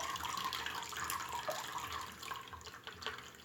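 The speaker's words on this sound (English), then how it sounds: "Now pour it into a bowl. All the liquid goes down." Milk kefir liquid pours through a colander into a bowl, making a steady splashing, trickling stream with scattered drips, close and fairly quiet, with no talking.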